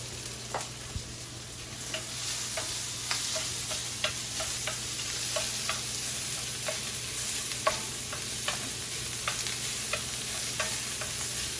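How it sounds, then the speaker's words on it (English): Shrimp sautéing in a pan with onions and mushrooms gives a steady close sizzle, with regular soft clicks and scrapes from stirring throughout, and no talking. "I'm going to put this into my pan with my onions and mushrooms."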